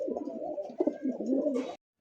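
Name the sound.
pigeons cooing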